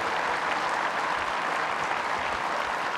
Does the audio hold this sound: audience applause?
yes